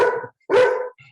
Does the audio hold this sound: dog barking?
yes